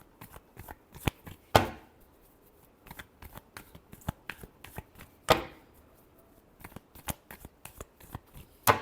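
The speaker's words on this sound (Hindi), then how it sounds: "Last shuffle." A deck of cards is shuffled repeatedly, giving close, crisp riffling bursts with sharp snaps in an uneven rhythm. The room is otherwise quiet and no one speaks.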